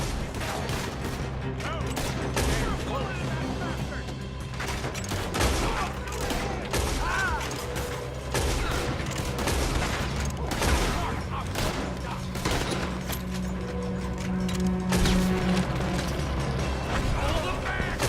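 A Red Dead Redemption 2 shootout rattles with rapid, repeated gunshots and fusillades for the whole stretch. The shots are dense and loud, with shouting voices mixed in among the fire.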